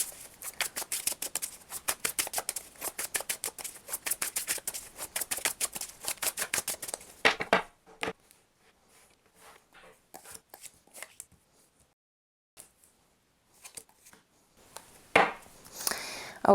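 Tarot deck of the Field Tarot being handled and shuffled: a fast run of crisp card riffles and flicks for about seven seconds, then sparse soft slides and taps, with a final louder shuffle near the end; no talking.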